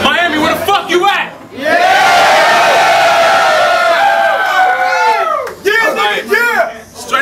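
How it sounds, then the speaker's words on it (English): A rap battle crowd in Miami erupts in loud, sustained cheering and whooping that swells for several seconds, framed by a host's amplified shouting before and after. "Make some noise, give a round of applause"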